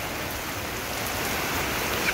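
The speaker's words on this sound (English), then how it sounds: "rain." Steady hiss of a summer evening rain shower in Florida, falling evenly and fairly close on outdoor surfaces with no clear individual drops, unbroken for the whole stretch.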